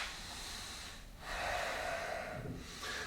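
During a hatha yoga cobra pose, a person breathes audibly through the nose, a soft close exhale followed by a longer, slightly louder breath with a sniff-like edge, no talk.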